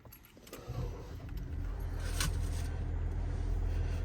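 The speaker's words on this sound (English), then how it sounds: "I'm going to start it up." A 2024 Nissan Qashqai's engine starts with a brief crank around the two-second mark, then settles into a steady, low idle hum heard from inside the cabin.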